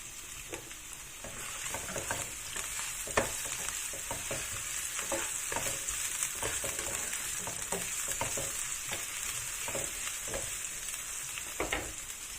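Garlic fries in a pan for Chinese-style chicken feet, a steady close sizzle broken by frequent scraping and clacking from stirring, with no voices.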